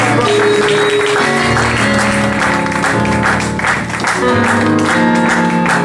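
Church congregation applauding and cheering during a worship service, loud and continuous, with music playing throughout and blending with the clapping.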